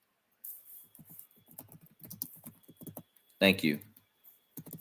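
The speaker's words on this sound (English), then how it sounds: "let me just type it in" Someone types on a computer keyboard, giving close, quiet clusters of key clicks with a louder clack near the end, while a voice talks briefly.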